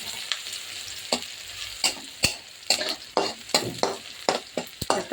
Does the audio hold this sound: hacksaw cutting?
no